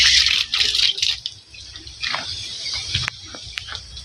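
Water leaks from a faulty faucet during residential PPR pipe installation work, heard as a hissing, spraying rush with intermittent drips and splashes, fairly close and continuous.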